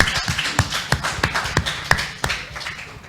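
A small audience gives scattered, uneven claps at a live conversation event, a few distinct hands striking close by rather than a full ovation.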